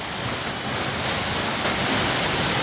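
Heavy rain and hail pound a tin building during a storm, a dense, loud, unbroken roar that fills the whole stretch without any talk.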